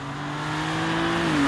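A car engine pulls hard under acceleration, a steady rising drone that climbs in pitch and grows louder over a second and a half, heard alone and close.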